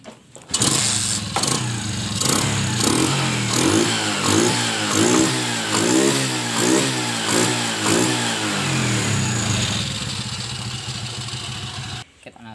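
Kawasaki Kaze motorcycle engine, fitted with a DC CDI ignition, started and run nearby, with a series of rhythmic throttle revs rising and falling over a steady idle before it cuts off at the end.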